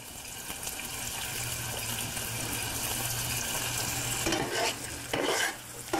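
Shrimp sizzle in a hot pan with a steady, close frying hiss, then stirring clatters and scrapes break in near the end.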